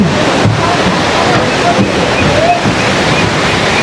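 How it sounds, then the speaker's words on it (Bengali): A mountain waterfall on the Amarnath trek gives a loud, constant rushing roar, close and continuous, with a little wind buffeting the microphone. "দেখো ঝর্ণাটা দেখো।"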